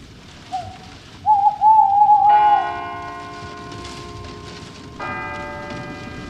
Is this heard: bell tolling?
yes